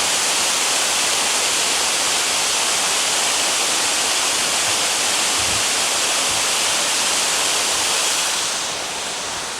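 Waterfall in old-growth forest in Tasmania, a loud, dense, continuous rush of falling water close by, steady for the whole stretch and easing slightly at the very end.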